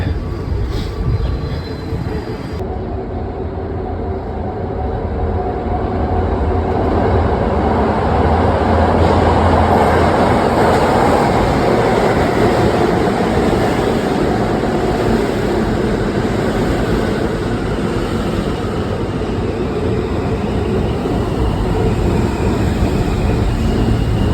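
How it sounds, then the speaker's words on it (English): A subway train rumbles continuously through a deep station, a loud, steady low roar with rattling that swells slightly midway, and faint voices beneath. "We're just about to head to the subway now. I can hear it."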